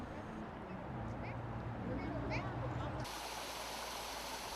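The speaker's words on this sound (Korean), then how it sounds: "물이 없던 매곡천에서 물 흐르는 소리를 듣게 된 거죠" Water flowing in the Maegok stream, a steady rushing wash heard outdoors at moderate level throughout, with a brief faint chirp or two and a shift in tone partway.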